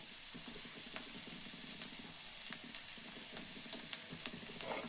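Thin-cut ridge gourd pieces fry in a hot pan with a continuous moderate sizzle, broken by small crackles and spatters, no voices.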